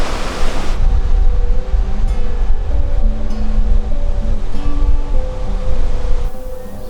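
Ocean waves washing onto a beach in the Bay of Plenty, New Zealand, a steady broad surf roar that stays loud and continuous, with no talking.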